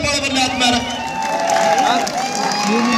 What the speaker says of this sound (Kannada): ಒಂದ್ಸಲ ಜೋರ ಚಪ್ಪಾಳೆ ಬರಲಿ ಆದ್ಮೇಲೆ